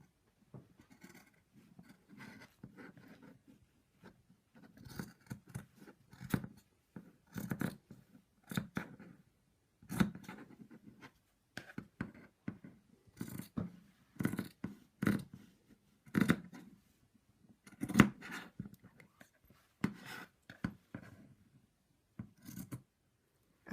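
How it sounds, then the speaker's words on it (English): Scissors snip repeatedly, trimming the corners of an embroidered in-the-hoop zip top bag, in quiet close-up bursts of short cuts with small pauses between, no voices. "And cut in the corner here."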